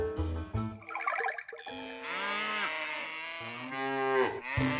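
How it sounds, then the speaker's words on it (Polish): Cartoon cows moo in a field, with several long drawn-out lowing calls that overlap and follow one another, each loud and near. "nadchodziło więcej krów"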